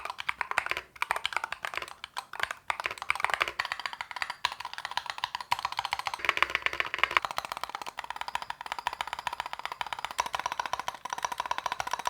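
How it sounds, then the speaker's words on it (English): Rapid, steady clacking of keys on a modded Cidoo ABM648 mechanical keyboard, recorded close up with no voices. "So here's an example how this keyboard sounds."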